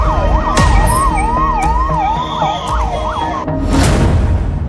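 Police vehicle sirens wail through the streets of Surat late at night, loud and close, their pitch sweeping up and down in overlapping cycles over the rumble of engines, with no one talking.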